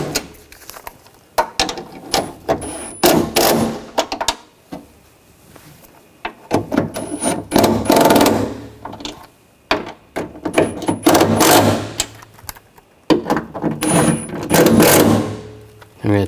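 Nuts being tightened on a 2000-2006 BMW X5 front window regulator assembly, heard as loud, close bursts of ratcheting clicks with short pauses between runs.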